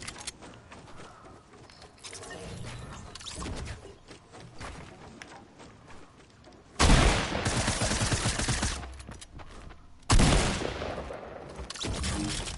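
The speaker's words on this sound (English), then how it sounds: "You think it's the gold shotgun?" Loud, close shotgun blasts in a video game, bursting out in two heavy roaring bursts after a quieter stretch of muffled action and thuds.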